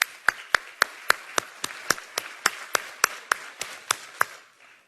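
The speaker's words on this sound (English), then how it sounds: "So one more round of applause for all of our presenters." Sharp, evenly spaced claps, about fifteen in steady rhythm, ring out at a conference session for the presenters, sounding like a single pair of hands near the mic rather than a full crowd.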